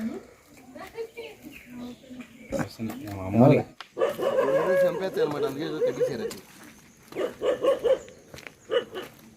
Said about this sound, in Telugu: చూడండి 2 కుక్కలు అయితే మరీ డేంజర్గా ఉన్నాయి